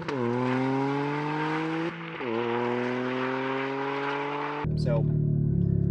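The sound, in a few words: three-cylinder car exhaust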